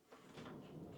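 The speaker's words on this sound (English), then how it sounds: "These doors are so neat. They're sliding doors" A motel bathroom's sliding privacy door rolls open, a soft rumbling slide that builds after a brief quiet start and carries on steadily through the short moment.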